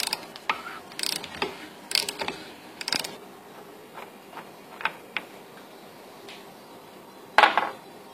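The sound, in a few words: unscrewing the adjusting nut on a Kia cee'd electric steering rack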